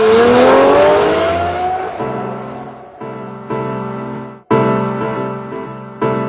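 A Lamborghini Murcielago LP640 engine roars loud and close, its pitch climbing hard, then breaking into a run of short, sharp full-throttle pulls separated by brief gaps.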